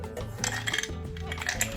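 A cup of ice dropped into a metal cocktail shaker for an appletini with vodka, giving a cluster of clinking, rattling cube impacts against the metal over about two seconds, close and fairly loud.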